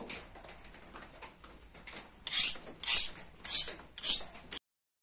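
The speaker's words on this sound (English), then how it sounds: "So I've clamped the blade to the flat bar" Clamp being tightened to fix a hardened San Mai knife blade against a flat steel bar, quiet metallic rustling followed by four rhythmic ratcheting bursts about half a second apart, close and fairly loud, then silence.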